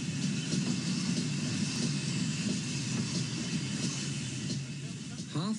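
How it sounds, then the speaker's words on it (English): Steam train on a heritage line pulling into Staverton, halfway to Totnes, gives a steady, close rumble with hiss and rattling wagons, continuous and loud throughout. "and the train draws into Staverton"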